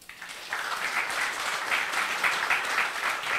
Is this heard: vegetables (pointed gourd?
no